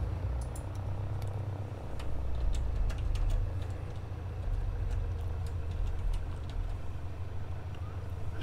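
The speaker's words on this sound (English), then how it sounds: "let's get our engines running" A Robin DR260 160 Capitaine light aircraft's piston engine in Microsoft Flight Simulator, a steady low rumble and idle running close by, alone with faint ticking clicks above it throughout.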